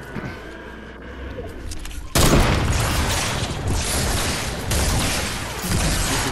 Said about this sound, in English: Bombard him with a rocket.